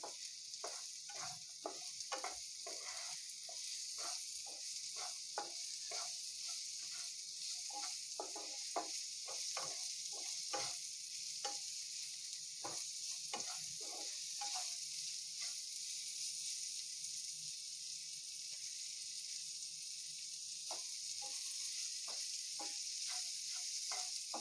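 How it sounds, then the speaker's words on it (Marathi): Vegetables fry on high heat under a cover, giving a steady loud hiss with frequent sharp crackles and pops scattered throughout, close and uninterrupted by voices. "आपण एक 7 ते 8 मिनटं भाज्या छान फ्राय करून घेऊया हाय हीटवरती कव्हर करून"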